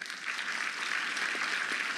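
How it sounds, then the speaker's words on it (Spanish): Audience applause at a scholarship award ceremony, a steady even wash of clapping from a seated crowd, moderately distant and without talk. "Fuerte aplauso para él."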